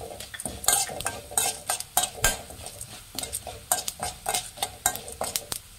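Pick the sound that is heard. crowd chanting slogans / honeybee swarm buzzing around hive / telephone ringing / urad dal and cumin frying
urad dal and cumin frying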